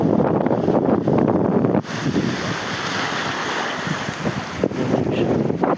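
Strong wind blows and buffets the microphone in rough, roaring gusts under overcast skies in Bato, Leyte, continuous and loud with brief dips.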